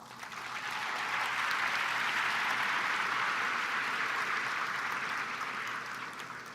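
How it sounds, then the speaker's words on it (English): Audience applause at an AFT teachers' union convention: a dense, sustained wash of clapping from a large crowd that swells in, holds steady for several seconds and tapers slightly at the end, with no talk over it. "Can we take a moment to give her a round of applause?"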